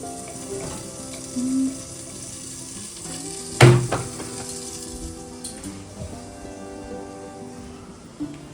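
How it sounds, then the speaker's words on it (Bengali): Eggplant pieces fry in hot oil in a home kitchen, a steady soft sizzle throughout with one sharp clatter of a utensil or pan partway through and a few faint background sounds. "মাছের বেগুন ভাজা হচ্ছে"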